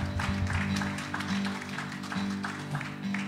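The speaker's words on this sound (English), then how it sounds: "Yeah, you can clap." A church congregation claps along during live worship music at a service, a steady, moderately loud patter of hands running under sustained instruments and singing.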